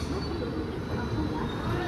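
A Howrah-bound Central Railway train pulls out from platform 2 beside another train standing at platform 3, giving a steady low rumble of rolling wagons and faint wheel noise throughout, fairly close.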